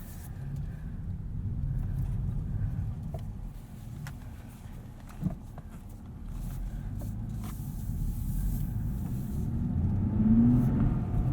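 A 2023 Nissan Z drives on local roads, heard from inside as a steady low engine and road rumble that swells toward the end.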